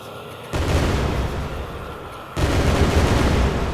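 A frag grenade blast in a video game sets off a sudden loud roaring boom with heavy rumble, followed a couple of seconds later by a second, louder surge of explosive noise, dense and sustained.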